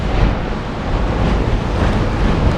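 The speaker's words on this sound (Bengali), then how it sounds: "এই লেভেলে হাওয়া দিচ্ছে" Strong cyclone wind roars hard against the microphone, a loud and constant rushing blast with no pause for the full stretch.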